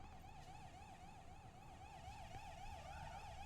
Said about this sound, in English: There's a siren going on somewhere.